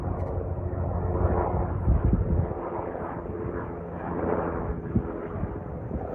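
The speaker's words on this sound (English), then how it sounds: "It's been pretty constant helicopter sounds all morning." A steady, broad engine drone from tour helicopters passing overhead at the Grand Canyon South Rim, continuous and fairly loud throughout, with no voices.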